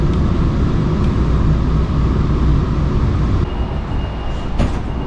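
A San Diego trolley rumbles steadily as it pulls into El Cajon Transit Center, heard from inside as a loud, continuous rolling drone with a faint clank near the end.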